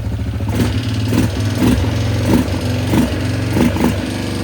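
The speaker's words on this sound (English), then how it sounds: "That engine sounds a little noisy." A Yamaha Grizzly 600 ATV engine idles roughly near the mic, with a steady low drone, a mechanical rattle and periodic surging pulses about every half second, running on little throttle.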